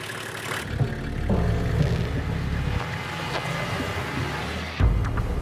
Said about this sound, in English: Paul the mechanic keeps a regular check on the engines and is satisfied that despite round-the-clock running for 3 days, everything is functioning correctly.